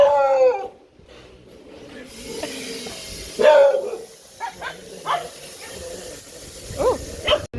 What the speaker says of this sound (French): Avec Thomas on adore les chiens, mais quand ils réagissent comme ça il faut pas s'en approcher